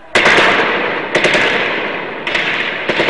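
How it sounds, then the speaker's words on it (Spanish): Army gunfire in a street battle in Cairo, heard as a few loud, sharp bursts of shots, each followed by a ringing, echoing wash. No voices. "Disparos del ejército."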